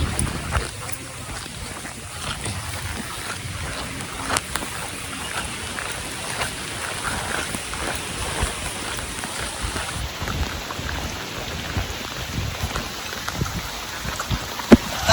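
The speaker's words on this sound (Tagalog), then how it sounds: "Ayun, malakas na yung ulan" Steady, dense heavy rain in Infanta, Quezon hisses and patters across the whole clip, a continuous wash of noise with a few louder splashes near the end.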